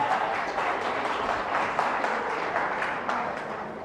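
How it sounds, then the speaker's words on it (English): Audience applause following a keynote speech, a steady wash of many hands clapping together at moderate loudness throughout, with no pauses and no voices standing out. "And yes, clap for that."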